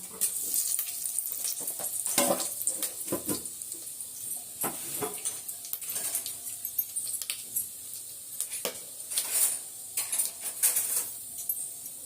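Cinnamon, bay leaf and clove sizzle in hot oil for a mutton curry, a steady close frying hiss broken by occasional spoon scrapes and stirring clatter against the pan.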